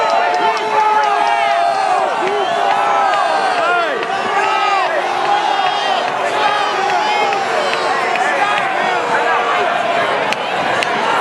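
A loud, dense crowd at a protest shouting and cheering continuously, with many overlapping voices and yells close by throughout.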